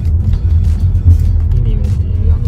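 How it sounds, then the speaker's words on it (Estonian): A small car rolls through a street in Seville's old town, its engine a low close rumble that holds steady with slight swells, and faint sounds of the street sit above it. "Sõidavad. Väike auto."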